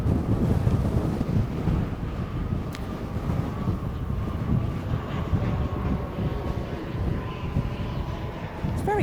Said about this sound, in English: Try not to get blown away here because it's pretty windy